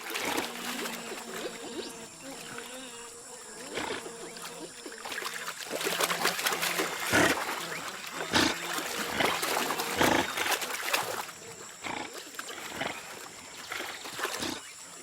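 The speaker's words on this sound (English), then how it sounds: "Not easy to vanish with noisy giant river otters watching." Noisy calls, squeals and snorts of giant river otters repeat over running water, busy and fairly close throughout.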